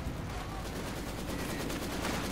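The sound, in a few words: gunfire from the video game Company of Heroes 2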